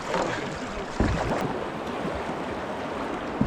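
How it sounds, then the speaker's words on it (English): Kayak paddling in a moving river current: steady rushing water and splashing fill the scene, with a sharper paddle stroke or splash near the start and another at the end, close and continuous. "get fully in the current, then level off and you can paddle normally"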